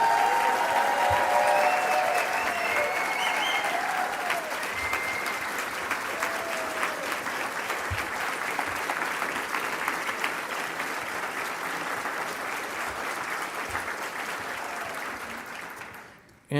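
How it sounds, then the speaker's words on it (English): Sustained applause from a large convention audience honoring hotel staff at a closing plenary, a dense steady wash of clapping that holds at an even level for over fifteen seconds before cutting off abruptly, with faint voices mixed in early. "Let's give the hotel staff a big round of applause."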